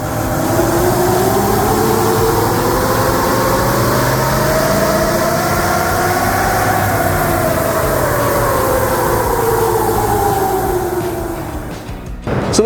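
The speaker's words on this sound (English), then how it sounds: "Now it's back onto the dyno for a custom ECU remap to suit all the upgrades." A Toyota Land Cruiser 76 series with a stage 1 power upgrade runs hard on a dyno, a loud, sustained engine roar whose pitch climbs and then falls away before cutting off at the end.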